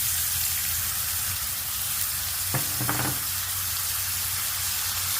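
Steady hissing sizzle of onions frying in hot oil, continuous and close, with a brief clink and stir partway through.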